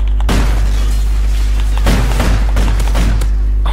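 Akimbo .44 revolvers fire in Call of Duty Ghosts, several loud, heavy booming shots in an uneven rhythm over a constant low game drone.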